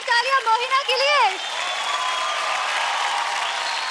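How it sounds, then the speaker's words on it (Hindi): A voice opens the moment, then loud applause and cheering from a TV dance-show studio audience for a contestant named Mohina swell up and hold steady to the end. "जोरदार तालियां मोहिना के लिए।"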